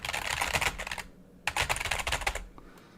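Computer keyboard typing as a sound effect: two rapid bursts of clicky keystrokes, close and crisp, separated by a short pause, with no voices.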